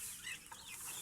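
Penned chickens on a farm, heard as faint distant clucking in a short burst.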